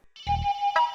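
A mobile phone ringtone plays in a short electronic burst of bright tonal notes, close and clear, with one brief beat at the start and a second pulse toward the end.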